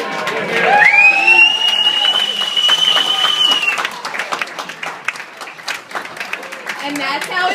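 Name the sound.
guests cheering and applauding a toast at a rehearsal dinner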